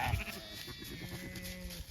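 Sheep bleat on a green pasture among new lambs, a couple of short wavering calls close by over quiet outdoor background.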